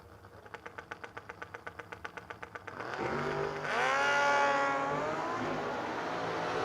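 No-Box 660 drag-racing motorcycles at the start line: a steady, loping idle pulses evenly for about three seconds, then erupts into a loud, sustained launch roar with rising engine whine as the bikes pull away.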